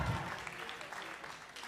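An audience at a 24-hour citizen project pitch competition applauds after a pitch, a steady wash of clapping that fills the short stretch at an even level, with faint voices mixed underneath.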